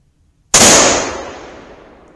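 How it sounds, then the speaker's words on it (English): A single loud, sharp rifle shot from a .30-06 Winchester Model 70 firing 165 grain Sierra Match King bullets cracks suddenly out of silence, then its echo rings and decays slowly outdoors. "Next up with 165 grain Sierra Match Kings and two shots."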